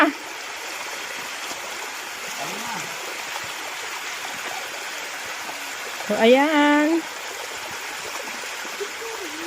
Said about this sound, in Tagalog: Ito po yung ilog na liguan.